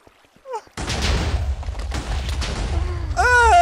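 Firecrackers going off in a Minecraft-style video game, a dense run of loud booming bursts and crackling pops after a brief quieter start, with rising whistling tones near the end.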